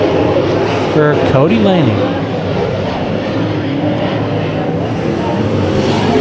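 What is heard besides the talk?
late model race cars racing at Bakersfield Speedway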